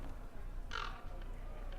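A single crow-like caw from a bird in Dragon Age Inquisition at Halamshiral, one short burst standing out over a steady low background hum, moderately close.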